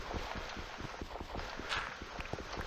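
Coconut halves clopped together to imitate horse hooves in the manner of the Monty Python and the Holy Grail gag, a quick, even train of light hollow knocks like trotting, fairly faint against a soft background hiss.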